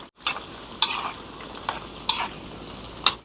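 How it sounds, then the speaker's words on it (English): Banana chips fry in hot oil while being stirred, a steady close sizzle punctuated by a few sharp scraping strokes of a utensil against the pan. "keep continuing to stir when you put it in, otherwise it will stick together"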